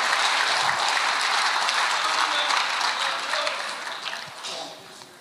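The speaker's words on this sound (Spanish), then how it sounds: "Dale una fuerte ofrenda de palmas al Señor." A church congregation at an international pastors' retreat in Las Vegas claps hard in praise, a dense roar of applause that slowly thins and fades toward the end.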